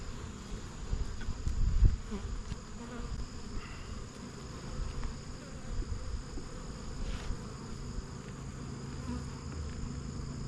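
Honey bees buzz steadily during a hive inspection, a dense, continuous drone filling the air with a brief louder swell near the start, and no talking.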